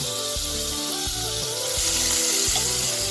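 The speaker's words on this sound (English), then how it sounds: "to our mix now, I'm going to add our beans" Pigeon peas hitting a hot pan of Haitian-style rice mix, loud continuous sizzling and frying with several soft thuds and stirring clatters as the beans go in, no talk.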